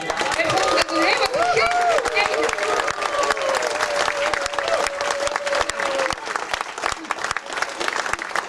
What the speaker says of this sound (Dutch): Hartstikke mooi en een groot applaus.